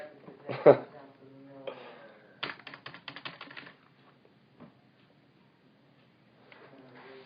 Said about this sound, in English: I'm over here typing.